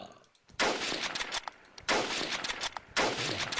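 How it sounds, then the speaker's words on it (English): Three loud, booming gunshots from a Minecraft DayZ mod ring out about a second apart, each with a long noisy decay, while faint game sounds fill the background. "Let's use one of the guns. So you can shoot. They've got proper good sound effects."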